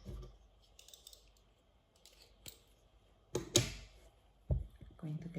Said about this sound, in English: so I'm going to cut the yarn.